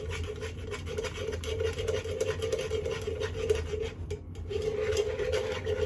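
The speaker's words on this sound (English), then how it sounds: "I'm going to go ahead and stir in the pectin" A spoon scrapes and rasps around a pot as pectin is stirred into cherry jam. The strokes are close and repeated over a low steady hum, with no voices.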